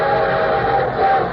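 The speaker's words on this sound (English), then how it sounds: "And here comes our star-studded show train." Train sound effect opening a vintage radio show about railroads, a brief loud rumbling rush with a sustained whistle tone over it, no voices.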